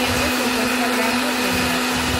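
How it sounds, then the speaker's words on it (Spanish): An electric mixer beats eggs, sugar, vanilla and cream for a nata bread batter, giving a loud, steady, close motor whir with a constant pitched hum throughout. "Voy a pausar el video para batirlo unos 2 minutos."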